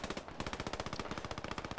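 Sustained automatic fire from an MG34 machine gun in the video game Post Scriptum, rapid evenly spaced bursts of shots continuing loudly and close for the whole moment with no talk.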